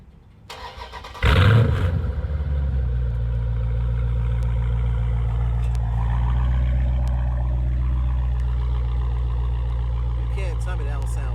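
A Dodge Charger Scat Pack with its mid muffler deleted fires up, then holds a loud, steady, deep rumbling idle with swelling revs, heard up close and alone after a short burst of noise at the start.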